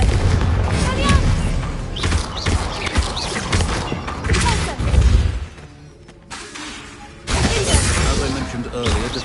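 A Confringo fire spell in Hogwarts Legacy booms with heavy, crashing blasts. A brief lull follows, then the loud burst resumes, with game voices talking around it.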